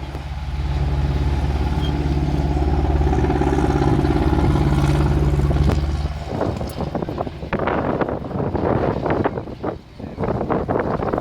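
A petrol-engined tracked military vehicle runs at a tank museum demonstration, with a loud steady engine roar that gives way to rougher clattering and rumbling, heard close and outdoors with wind buffeting.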